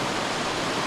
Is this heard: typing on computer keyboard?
no